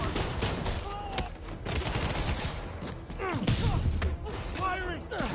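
Gunfire in the video game Marvel's Spider-Man: dense, rapid volleys of shots and mechanical clatter run throughout, with voices calling out over the shooting.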